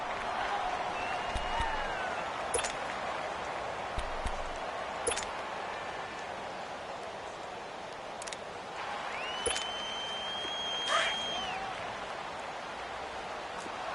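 A football video game crowd keeps up a broad, steady roar like hiss, with faint whistles and brief rises in cheering, while a commentator's voice speaks over it.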